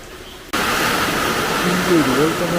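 Heavy rain lashes down with wind and rushing runoff water in a sudden, dense, steady roar. A voice speaks faintly underneath it.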